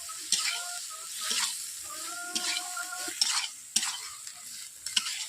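Malabar spinach stirred with mustard paste in a pan, a spatula scraping and clacking in irregular strokes over a faint sizzle, close by.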